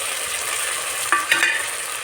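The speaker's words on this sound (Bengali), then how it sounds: "এই যে আদা রসুন বাটা অল্প করে দিয়েছি এভাবে একটু ভাজবো" Steady frying sizzle of ginger-garlic paste in a pan, with a couple of brief scraping stir sounds partway through; no voices.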